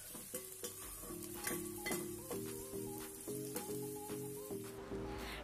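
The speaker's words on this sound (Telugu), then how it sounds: "ఈ ఉల్లిపాయ ముక్కలు కాస్త కలర్ చేంజ్ అయ్యే వరకు ఫ్రై చేసుకోవాలండి." Chopped onions and green chillies fry in a pan for a fish curry with lady finger, a soft steady sizzle broken by repeated scraping stirs and light metallic clinks of a spoon.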